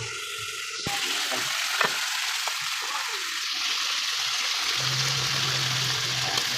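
Pork sizzles and fries steadily in a hot pan, a loud continuous crackle that runs without pause alongside a dried fish fry in the same kitchen.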